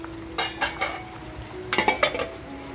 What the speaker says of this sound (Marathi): आता ह्याच्यावर आहे ना आपण झाकण ठेवूया